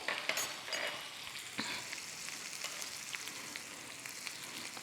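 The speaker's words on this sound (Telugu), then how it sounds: "కొద్దిగా వేడి నూనెతోనే ఆ పపాయ వేగుతుంది" Raw papaya fries in a little hot oil, a bright crackling sizzle with scattered pops and a sharper burst early on, then settling into a steady, moderate hiss.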